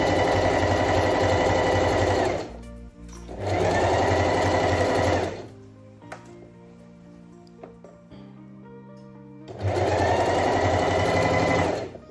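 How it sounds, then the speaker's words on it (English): Sewing machine top stitching a seam allowance open on a bias-cut cowl neck dress, loud steady whirring bursts of stitching separated by a longer quiet pause with faint handling clicks, then stitching resumes. "I'm just top stitching the seam allowance open."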